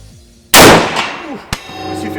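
A single loud, sharp rifle shot from a Schmidt Rubin 96.11 firing reloaded Gp11 ammunition, with a long decaying echo at an outdoor range and a fainter metallic report about a second later.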